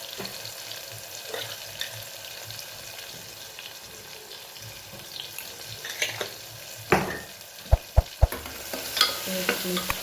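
A spiced onion filling for kachori fries in a pan with asafoetida and masala while a spoon stirs it, giving a soft steady sizzle with a few sharp scraping knocks toward the end.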